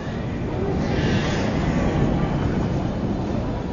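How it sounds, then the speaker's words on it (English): A dense, continuous roar of distant city noise from a vast future New York, a broad rumbling wash with no distinct events, steady throughout. "That's the sound of 200 million people."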